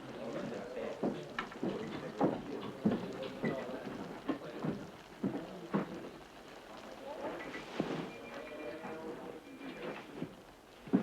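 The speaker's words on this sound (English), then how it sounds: "Starts raining up here. It doesn't know when to stop." Steady rain falls outdoors as a soft, continuous patter, with scattered knocks and footsteps over it and people talking intermittently throughout.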